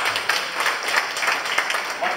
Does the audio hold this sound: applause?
yes